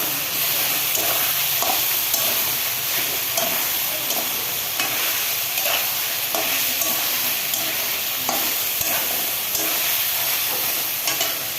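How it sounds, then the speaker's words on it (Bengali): Ginger, garlic and onion spice paste fries in a pan after chicken has been browned, giving a steady, loud sizzle throughout with scattered scraping stirs, and no one talks. "আমি এখানে আদা রসুন পেঁয়াজ এই মশলার মধ্যে দিয়ে ভাজে নিতে হবে"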